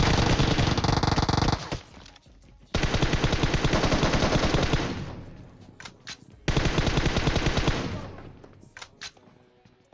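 M4 rifle fire in a video game comes in loud, rapid automatic bursts of dense crackling shots, with two long sustained volleys broken by brief quieter gaps and scattered single pops.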